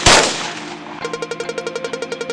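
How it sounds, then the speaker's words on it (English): A single loud, booming gunshot opens the scene in the visual novel game Exogenesis ~Pearls of Rebirth~. A quick run of evenly spaced, lighter electronic blips follows it. "A thunderous gunshot interrupted Yu's train of thought and shook everyone into silence."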